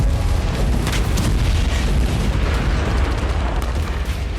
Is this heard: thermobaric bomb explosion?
yes